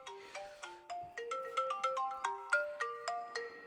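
A mobile phone plays a melodic ringtone: a bright run of repeating synthetic notes in a steady rhythm, clear and alone with no voices.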